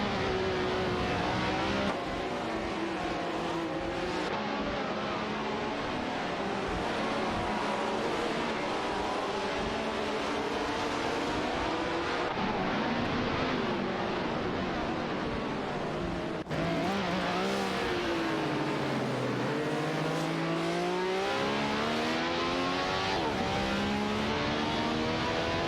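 AI-driven race cars at speed, engines revving and sweeping up and down in pitch as they pass, loud and continuous throughout with no voices.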